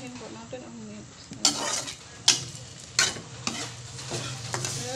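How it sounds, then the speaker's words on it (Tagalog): Pork adobo mix with onion and garlic sautéing in a pan: a steady close sizzle with repeated sharp scrapes and stirs of a utensil against the pan at irregular intervals. "Gisahin po natin ang mix."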